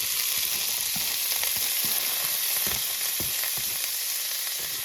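Diced onions sizzling in a hot pan beside ham, a steady close frying hiss with small crackles and no talk.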